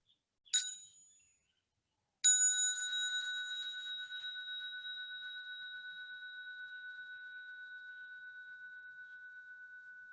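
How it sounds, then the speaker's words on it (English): A small bell is struck twice; the first ring fades quickly, then a second clear strike rings out and decays slowly into silence. "I'm going to invite the bell and then I will start."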